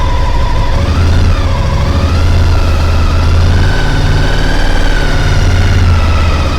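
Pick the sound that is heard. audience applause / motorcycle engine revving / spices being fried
motorcycle engine revving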